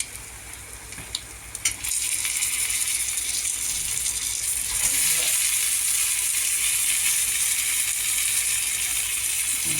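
Brinjal pieces dropped into a pan of onion-garlic masala burst into a loud, steady sizzle after a few quiet clatters, the frying hiss continuing strongly to the end.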